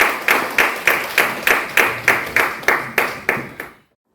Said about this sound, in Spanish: Denle un aplauso grande al que vive para siempre